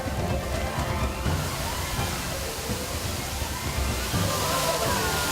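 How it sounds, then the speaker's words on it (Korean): Waterfall fed by nine converging tributaries, restored to a natural state, pours in a steady broadband rush of falling and splashing water that stays continuous and fairly loud throughout, with no voices. "아홉 개의 지류로부터 모여 흘러내려오는 폭포는 자연 원래의 모습이 이러했음을 고스란히 보여주고 있다"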